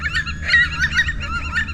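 Several park birds, geese by their calls, honk in a rapid overlapping chorus, loud and close, with a steady low background rumble and no talking.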